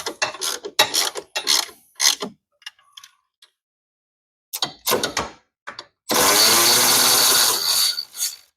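A socket ratchet clicks in rapid bursts as it backs out the clutch pinch bolt on a Harley-Davidson Twin Cam 110, close and loud with short pauses, ending in a longer steady metallic grinding whir.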